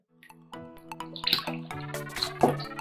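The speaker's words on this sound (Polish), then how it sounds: "Zakładamy je na górę, dolewamy troszkę wody" Water trickles and splashes into a container with dripping, ringing tones, fairly quiet and close.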